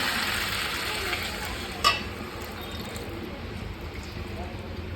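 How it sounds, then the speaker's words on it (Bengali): Vegetable curry of potato and drumstick simmering in a hot pan after water is poured in, a steady broadband sizzle and bubbling hiss with a brief splash-like burst near the two-second mark, heard up close. "এবার আমি পরিমাণ মতন জল আমি দিয়ে দেবো।"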